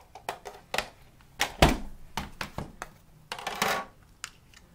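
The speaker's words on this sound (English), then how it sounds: "run it through the Big Shot" Card pieces pressed through a Big Shot die-cutting machine with cutting pads, giving a close series of irregular thunks, clicks and rattling knocks, with one heavier thud in the middle and no speech.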